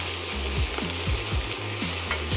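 Bell pepper and celery stir-fry over high heat in a wok, a steady hiss with a rhythmic series of scraping, clattering strokes from the tossing utensil, close and continuous.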